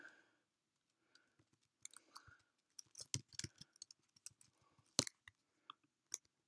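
Typing on a computer keyboard, quiet close-up clicks tapping in irregular bursts with brief pauses, no speech.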